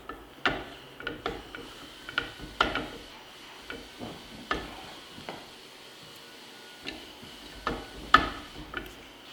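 A new muzzle brake being threaded by hand onto a rifle barrel with a crush washer: quiet, irregular metallic clicks and ticks with faint rubbing between them, close and alone.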